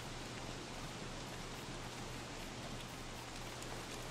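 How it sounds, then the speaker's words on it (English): Steady rain in the video game Don't Starve hisses as a dense, unbroken wash of soft static at low level, alone with no talking. "And the rain sucks. I hate you, rain."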